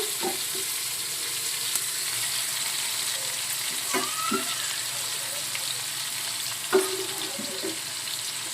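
Onion paste and spices frying in hot oil for ghugni, a steady soft sizzle with occasional scrapes and stirring knocks of a utensil in the pan.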